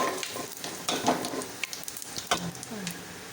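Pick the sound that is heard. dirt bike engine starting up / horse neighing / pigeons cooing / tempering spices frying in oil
tempering spices frying in oil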